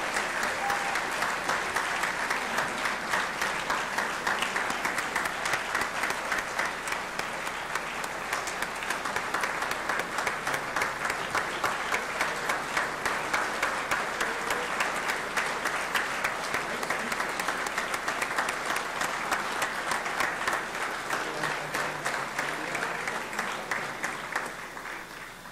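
Steady, sustained applause from the audience at the 2016 Plattsburgh State Athletic Hall of Fame ceremony fills a hall for about twenty-five seconds, dense and even before tapering off at the end.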